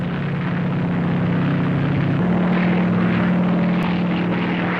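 A Boeing 247 propeller airliner in flight gives off a loud, steady engine drone with a constant hum that shifts slightly partway through, and no voices can be heard.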